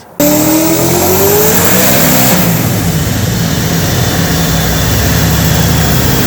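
A 1000-horsepower turbocharged Toyota Corolla with a 1UZ V8 engine roars at high revs, a loud, sustained, raw engine howl with a rising whine that starts abruptly and holds at full volume, with no voices over it.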